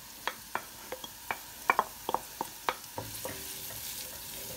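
Onion sautéing in local ghee (samna baladi) in a pan, with a soft sizzle under a series of sharp spoon-stirring clinks and scrapes, close and unhurried.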